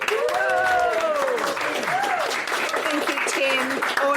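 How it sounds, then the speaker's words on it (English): Audience applauding for Tim Mendham at an Australian Skeptics event, a steady dense wash of clapping throughout, with voices and cheers mixed in over it. "a warm applaud for Tim Mendham"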